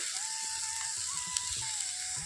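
Spices with salt and turmeric fry in a pan for a Bengali village-style fig curry, giving a soft, steady sizzle that stays faint and even throughout, with a thin constant tone running underneath.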